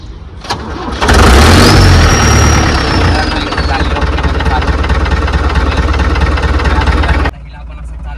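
A car that has sat unused for many days cranks and fires, then settles into a loud, steady idle that runs for several seconds before the sound drops off.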